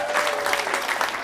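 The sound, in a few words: audience applause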